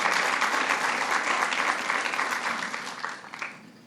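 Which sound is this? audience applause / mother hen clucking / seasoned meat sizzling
audience applause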